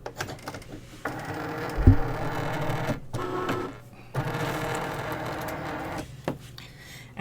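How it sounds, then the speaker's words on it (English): A Cricut Maker machine engraving acrylic, whirring and grinding in close mechanical passes that stop and restart with short pauses, a clunk partway through and no talking. "Now I'm ready to do my engraving"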